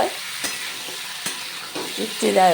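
Vegetables for a Bengali shukto fry in a pan while being stirred, a steady close sizzle broken by a few sharp scraping clicks of the spatula against the metal.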